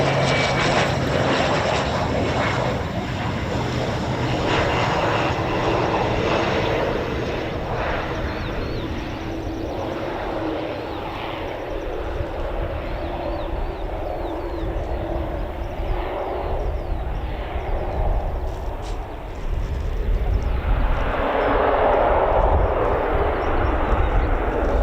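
Military aircraft, Eurofighter Typhoon FGR4 among them, roar overhead at a live air show in a broad, sustained engine rumble that swells louder toward the end, with no talk.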